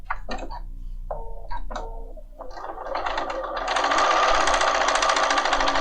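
Bernina 5 Series sewing machine stitching fabric: after a few short mechanical beeps and clicks, a steady rapid whirring run of stitches builds and continues close up, with no speech over it.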